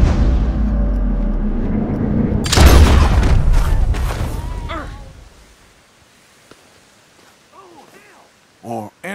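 A gunshot in Red Dead Redemption 2 booms loud and close, its heavy blast dropping into a long rumbling decay; low rumble sits under it beforehand, and a few faint sounds follow after a quiet stretch.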